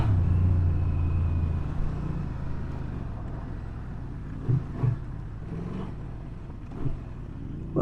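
A Honda Transalp 750 motorcycle's engine rumbles heavily under acceleration at first, then recedes into a lower, steadier drone broken by a few short thumps, with no talking.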